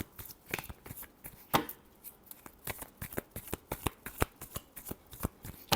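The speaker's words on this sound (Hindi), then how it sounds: "Last shuffle." Tarot cards shuffled by hand in a steady run of crisp riffling snaps and soft slaps, close and fairly loud, with no talking over it.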